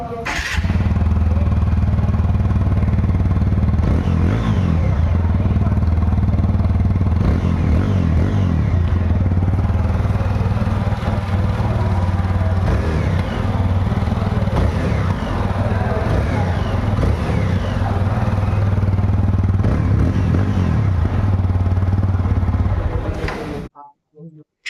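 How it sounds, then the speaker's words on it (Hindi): A TVS Apache RTR 180 motorcycle with a 180 cc engine idles and revs loudly up close, its exhaust note throbbing steadily with rising and falling throttle blips before cutting off near the end. "और मैं आपको सुनाता हूँ इस बाइक का एग्जॉस्ट नोट।"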